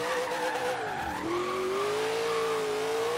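A twin-turbo AMC AMX drifting in Forza Horizon 3, with a loud sustained engine whine and tire squeal that dips in pitch partway through, then holds steady as the car slides.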